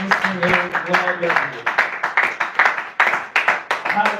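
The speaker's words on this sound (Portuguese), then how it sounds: "as palmas que engrandecem o nome do Senhor" A church congregation claps in a fast, even rhythm, sharp repeated hand claps close by, with a voice singing or speaking over the first part.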